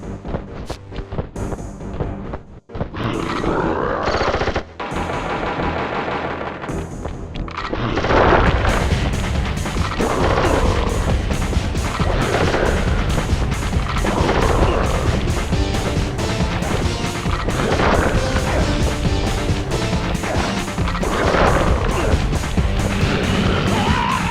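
A boss character's gun firing in the Sly Cooper video game, loud repeated booms and crashing impacts coming in a dense, continuous barrage with game noise around them.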